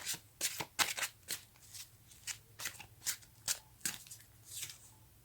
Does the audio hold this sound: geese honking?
no